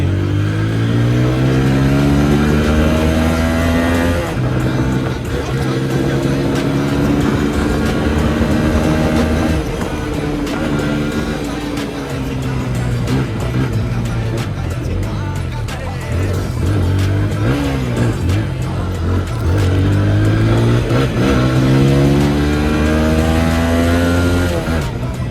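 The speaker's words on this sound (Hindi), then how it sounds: "क्या भाग रही है भाई गाड़ी" A TVS Apache RTR 160 4V motorcycle engine revs hard through the gears on a fast solo ride, a loud, close exhaust note rising and falling repeatedly with wind rush throughout.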